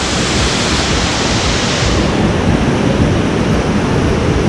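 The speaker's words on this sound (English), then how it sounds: "I can't think of a better way to end this than with a 154-foot waterfall." The 154-foot Anna Ruby Falls in Unicoi State Park, Georgia, roars as a loud, dense, unbroken wash of falling water heard close up, with no voices.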